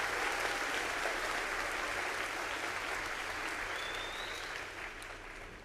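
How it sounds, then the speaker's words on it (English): A school gym audience at a Veterans Day assembly applauds an a cappella choir, dense sustained clapping that fades slightly toward the end with no voices over it. "give one more round of applause for your a cappella choir"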